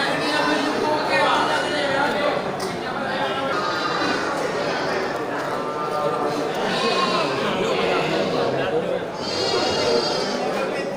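Female breeding goats bleat at a busy livestock market, their wavering calls rising repeatedly over a steady crowd murmur while people talk nearby.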